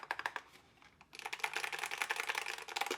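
Typing on a Skyloong GK75 gaming keyboard with a transparent case: a few separate key presses, then a fast, steady run of close, crisp mechanical clacks.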